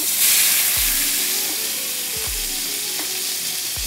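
Hot oil sizzles steadily in a pan while cooking Haitian tchaka, a loud continuous hiss with occasional clanks of a utensil stirring.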